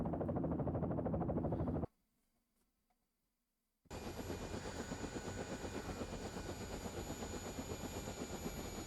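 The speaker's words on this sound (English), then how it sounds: "He's in the chopper!" A helicopter in the Yakuza video game gives a steady, dense rotor drone with wind noise. It cuts out into near silence for about two seconds, then returns just as loud and continuous.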